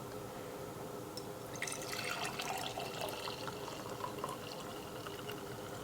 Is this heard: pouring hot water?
yes